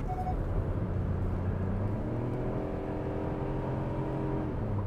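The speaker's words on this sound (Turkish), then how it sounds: "Motor sesi dediğim gibi güzel." A Hyundai Bayon 1.0 T-GDI with a DCT gearbox accelerating from the cabin, its engine drone steady and rising gradually in pitch, with continuous road and wind noise and no talking.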